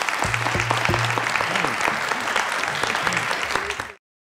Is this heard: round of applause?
yes